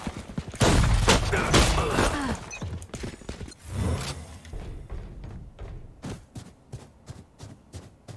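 Pistol gunfire in Valorant, a series of sharp shots, heavy and clustered at first, then spaced single cracks that sound close.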